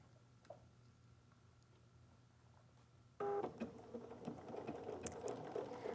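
A sewing machine stitching bias strips together for quilt piping starts abruptly after a quiet stretch, then runs as a steady close mechanical whir with rapid needle ticking.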